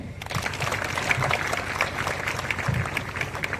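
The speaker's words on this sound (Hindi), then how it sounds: "सभी को ताली बजाएंगे।" Church youth group gathering at a flag-hoisting ceremony, with a crowd clapping together in a dense, steady patter that fills the space continuously at moderate loudness.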